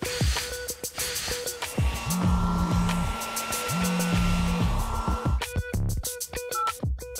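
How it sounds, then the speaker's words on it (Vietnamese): A hair dryer blows in a steady whirring drone, interrupted by sharp clicks, short tonal beeps and sliding pitch sweeps, with a burst of clatter near the end. "Để sấy khô và tạo kiểu tóc bồng bềnh, bạn cần sử dụng máy sấy tóc tuyệt vời."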